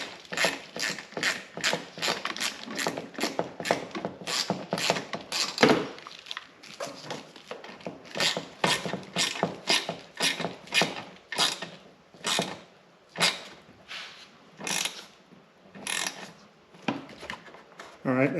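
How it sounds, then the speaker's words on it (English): Screws are driven into a wing mirror mount on a 2022 Can-Am Commander, giving rapid, close ratcheting clicks in uneven bursts with brief pauses between runs. "Now I can screw the rest of these, or these screws here, the rest of the way in."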